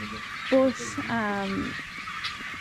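A couple of loud, nasal fowl calls ring out close by in a short burst, over a low background murmur of the shed.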